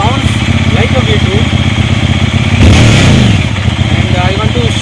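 Hyosung Aquila ST7 V-twin motorcycle exhaust idling with a steady low lumpy throb close to the microphone, then a brief swell and a loose popping burst midway before settling back to idle.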